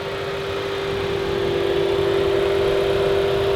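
A 2016 Volkswagen Jetta 1.4-liter turbocharged engine runs at a steady idle, a constant close hum with a sustained whine over broad mechanical noise, no talk.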